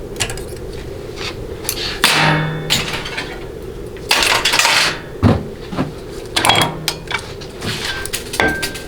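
A planetary gearset comes out of a 4L60E transmission during teardown, worked with 90-degree snap ring pliers: repeated sharp metallic clanks, clinks and knocks of steel parts, close and fairly loud, with scraping between the hits and no talk.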